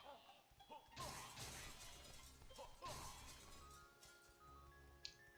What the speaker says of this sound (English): Some good glass breaking sound right there. It's a solid glass break.